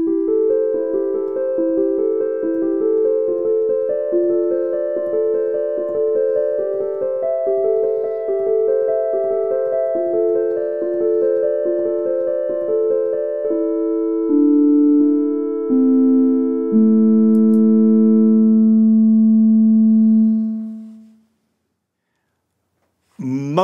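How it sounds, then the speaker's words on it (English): A sine-wave tone steps through a simple melody of changing pitches, clean and steady. It settles on a long held low note that fades to silence. "With a little variation, a sine wave can be musically pleasing."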